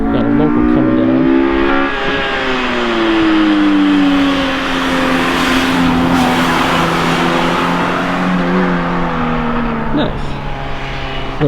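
A Honda Integra drives past on a mountain touge road, its engine droning loudly and steadily, pitch easing down then rising again as it nears and moves off, with a brief sharp noise near the end.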